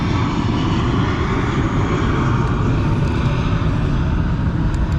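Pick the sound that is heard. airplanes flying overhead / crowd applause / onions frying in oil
airplanes flying overhead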